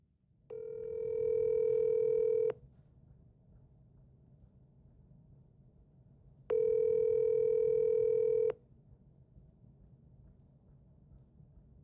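A phone call rings out through a handset earpiece: two long, steady ring tones, each about two seconds, separated by a pause of several seconds.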